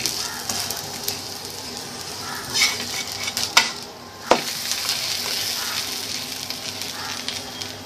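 Oil sizzles steadily in a pan while gobi paratha cooks, a soft continuous hiss broken by a few clinks and scrapes of utensils against the pan.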